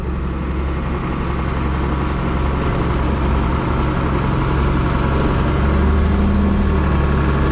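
Tractor engine idling steadily with a low, continuous rumble close by, holding a fairly even level throughout with no talk over it.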